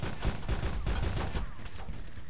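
Gunfire in the survival video game DayZ rattles in a dense, loud burst of rapid shots through the first half, then thins into a steady noisy wash as the shooting stops.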